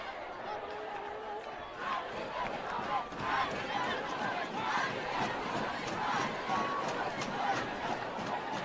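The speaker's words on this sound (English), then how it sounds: "Golden Valley cheering section you hear below us." Golden Valley's home cheering section at a homecoming high school football game, a loud, continuous crowd roar of shouts and cheers rising and falling in the stands, with an announcer's voice over it.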